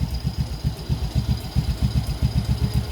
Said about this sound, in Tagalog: Maandar na yung makina.